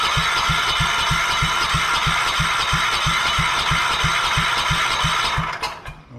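A 14 HP small engine on a lawn tractor runs with a loud, close, steady drone and a fast, regular low thudding pulse and rattle, then cuts out and sputters near the end.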